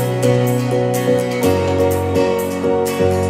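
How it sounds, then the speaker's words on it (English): Piano chords build slowly in a pop production, several sustained chords changing about every second, full and loud with a bright, layered texture and no talking. "Piano builds up slowly."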